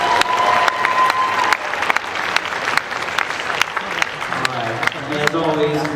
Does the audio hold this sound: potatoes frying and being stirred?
no